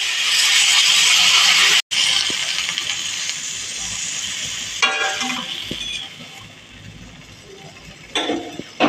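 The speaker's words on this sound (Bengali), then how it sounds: "এবার আমি পরিমাণ মতো জল দিয়ে দেবো।" Water poured into a pan of frying pumpkin greens stems sets off a loud, sustained hissing sizzle that slowly fades, broken by a brief clatter of a utensil near the end.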